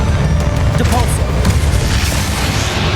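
A Depulso force spell lands in Hogwarts Legacy, its thumping impact buried in steady, loud battle clamour with booms and crashes rolling through throughout.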